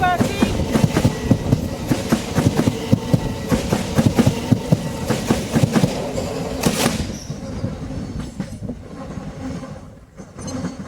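A train passes at Sevenoaks station with a rapid, rhythmic clatter of wheels over rail joints and some squeal, fading into a quieter rumble as it pulls away.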